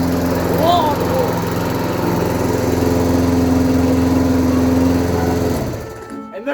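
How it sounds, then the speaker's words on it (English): A lawnmower engine runs steadily at a loud, close, high-revving drone just after starting, then winds down near the end. "That is how you turn on a lawnmower."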